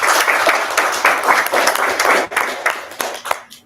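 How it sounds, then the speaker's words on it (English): Applause at a school board meeting, moderately loud clapping from a room of attendees in uneven bursts that thins out and stops near the end. "Let's give them a clap."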